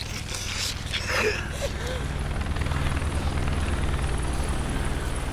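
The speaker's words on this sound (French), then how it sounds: "Ça, c'est l'hélicoptère que Rick avait vu quand il était en ville." Helicopter from The Walking Dead season 2 episode 13, the finale, a steady low rotor drone and rumble holding throughout under faint background voices and other show sounds.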